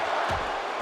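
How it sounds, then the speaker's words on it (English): A wrestling arena crowd roars and cheers in WWE 2K17 as a tag team enters the action, a broad, continuous wash of crowd noise. "this crowd comes alive for the New Day"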